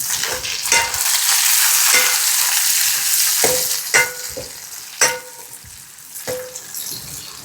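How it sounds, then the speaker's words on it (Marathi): Peanuts sizzle in hot oil in a pan over a wood-fired chulha, with a loud continuous frying hiss broken by repeated scraping stirs of a spoon, close up and without talk. "तर आता याच्यामध्ये आपल्याला शेंगदाणे टाकून घ्यायचे"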